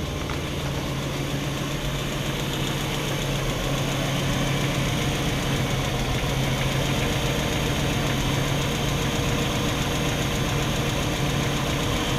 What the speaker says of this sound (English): while the engine warms up for a minute or so